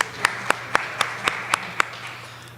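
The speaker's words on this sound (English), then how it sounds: "Also deserves a round of applause." A conference audience at a GUADEC 2024 talk claps sparsely, with about seven distinct, evenly spaced handclaps ringing out over a quiet room, rather than full applause.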